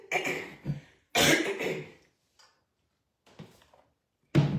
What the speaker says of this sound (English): Please excuse all the sniffing and throat clearing.